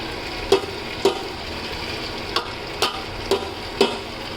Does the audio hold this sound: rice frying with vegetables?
yes